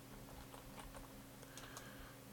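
Faint keystrokes tapped on a computer keyboard, a soft scattered patter of clicks set against a quiet room hum.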